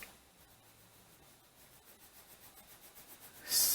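Colored pencil burnishing on paper, a soft close rubbing scratch in quick repeated circular strokes that grows slightly louder and ends with a brief harsher scrape.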